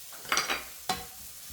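Ham and dried shiitake mushrooms stir-fried in a pan without added oil, giving a couple of quick scraping stirs over a faint sizzle, close and brief, no talking.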